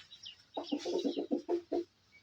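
A farm chicken gives a quick run of about eight short, clipped clucks close by, with a faint higher squawk just before them.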